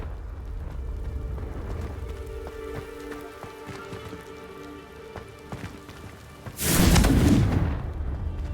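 An explosion from the Confringo fire spell in the Hogwarts Legacy video game: a loud, broad whooshing burst that rises and fades over about a second, set against a steady, busy game soundscape of ambience and music.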